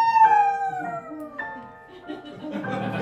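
A performer's voice imitates a wolf howl during an improv comedy show, a long wavering tone that slides downward, repeated in a few shorter rising and falling bursts, close and fairly loud.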